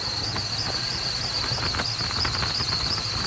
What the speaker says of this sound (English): I think it's my power steering pump, that whining noise